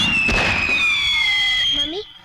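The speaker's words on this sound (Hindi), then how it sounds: "सब लोग पटाखे जला रहे, हमें भी जलाना है" Firecrackers going off during a neighbourhood celebration: a long, loud whistling tone that slowly falls, with a crackling burst near the start, and voices in the background.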